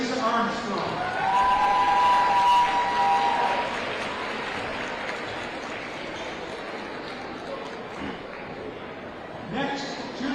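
A crowd applauds and cheers for a senior at a high school boys' basketball game in a gym, with a steady wash of clapping and a voice talking over the amplified noise of the hall.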